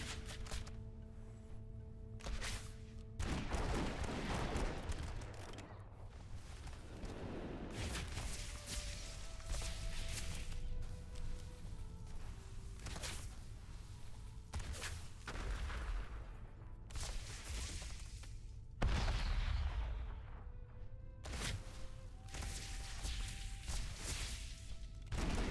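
Repeated gunfire bursts from the Barrage ability of a Marksmanship Hunter in World of Warcraft Dragonflight, sharp impacts scattered across a long stretch amid layered game effects and tones, fairly quiet overall.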